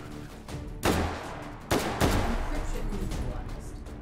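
FAMAS rifle fire in a video game: two loud, sharp bursts of gunfire a second apart, each trailing off into echoing noise, with no talking.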